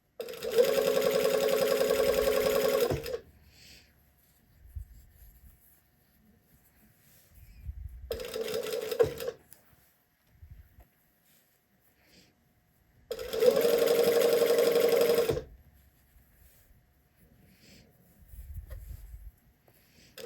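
A sewing machine runs a straight stitch on a neckline in short bursts of steady mechanical whirring, three stretches of stitching with quiet pauses between them, heard close up.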